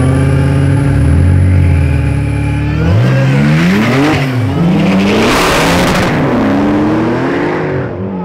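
A Dodge Hellcat and a Cadillac ATS-V street racing on street tires: loud idling engines surge into hard launches, with rising and shifting revs roaring close by, then fading as the cars pull away.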